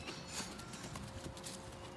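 Horse hooves clip-clop in a steady, quick rhythm as the horse is worked in a circle on the longe line, faint and somewhat distant with no talk.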